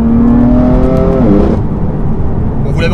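A loud, close BMW M4 GTS sports car engine revs hard, its pitch climbing then dropping, with a throaty exhaust roar continuing steadily afterward.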